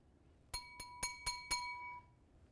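A real glass plate set down against a plastic bowl gives five quick bright clinks in a steady row, each leaving a ringing tone that fades over about half a second, close and clear with no talk.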